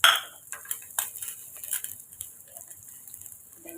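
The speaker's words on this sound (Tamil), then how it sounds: "லைட்டாக கலந்து கொடுத்துக்கோங்க" A spoon clinking against a bowl while chopped onion, tomato, green chilli and coriander are lightly mixed for an egg dish, a series of faint, irregular taps and scrapes close by.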